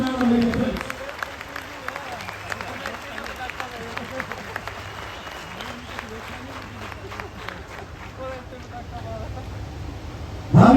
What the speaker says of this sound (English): Give a warm round of applause to him for conducting this program in this manner